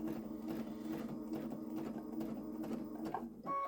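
A Brother sewing machine runs steadily through free motion quilting, its needle mechanism pattering in fast, even pulses up close, with a short pause and a change in pitch near the end.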